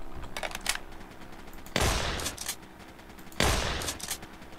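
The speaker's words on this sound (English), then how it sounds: "So that works just like any shotgun that you'd imagine" A shotgun fires twice in The Kenji Experiment, each blast a loud, sharp burst that decays over about a second, with faint clicks and rattles between the shots.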